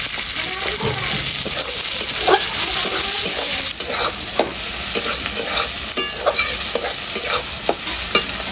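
Onion being fried and stirred with garlic and chilli in a pan, a steady close sizzle broken by repeated scraping strokes of a spatula against the pan.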